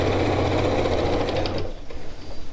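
A sewing machine stitches tote bag fabric in a fast, steady mechanical whir that runs loud and close for over a second, then stops.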